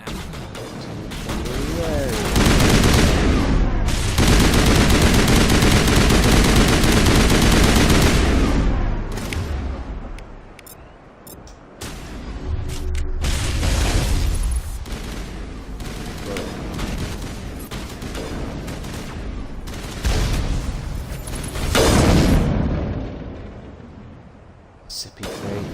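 Turret gunfire and explosions in the Mass Effect video game pound in long, dense barrages and heavy booms, rising and falling in intensity, loud and close, with a voice speaking between bursts.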